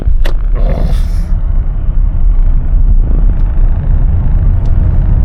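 A BMW 7 Series with electric drive accelerates in boost mode, a loud, steady low rumble with a few brief ticks near the start.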